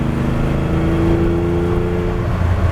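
Lamborghini Countach under full throttle, a loud engine roar with a rising harmonic tone as it accelerates, heard close from inside the car, steady and unbroken.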